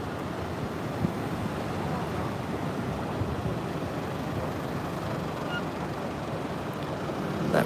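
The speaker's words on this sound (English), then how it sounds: "look at these waves breaking over Little Marley" Surf breaks continuously at Little Marley on the Gold Coast, a steady broad wash of wave noise mixed with gusting wind on the microphone.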